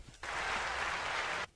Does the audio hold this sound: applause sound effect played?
yes